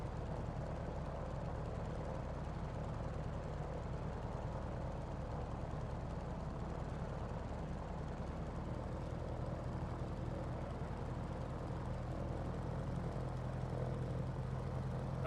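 Steady, unbroken drone of a Grumman Wildcat fighter's engine idling in a flight simulator during carrier practice in Hawaii, constant and even throughout with no voice over it.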